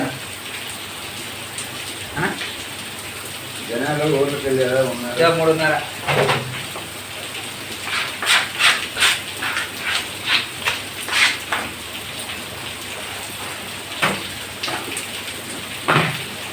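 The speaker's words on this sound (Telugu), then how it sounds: "బయట వర్షం చూడండి ఎలా పడుతుందో" Heavy rain pours steadily in a dense, constant hiss while people talk intermittently over it, with a few sharper knocks.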